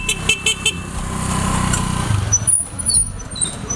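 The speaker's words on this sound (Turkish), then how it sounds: "Bu da paket dağıttığım motorum." A delivery motorcycle revs and passes on a street, its engine rising to a rough throaty roar and then falling away, with a few short horn-like squeaks and traffic noise behind it.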